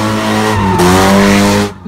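A loud car tire squeal with a revving engine during street racing in Atlanta, a sustained screech that shifts pitch midway before cutting off.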